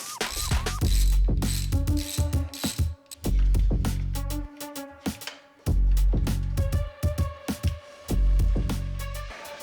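Ratchet tightening a bolt on a Ducati Bayliss V2 motorcycle, rapid clicking bursts in repeated strokes with brief pauses between them, close and loud, metallic tool clatter mixed in.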